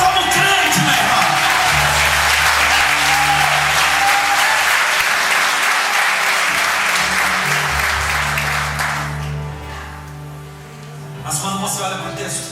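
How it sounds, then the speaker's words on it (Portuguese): Congregation at a Pentecostal-style church service in Londrina applauding loudly and steadily in a dense, sustained wash of clapping, fading out near the end as a low voice and music continue underneath. "Não, aplauda como crente,"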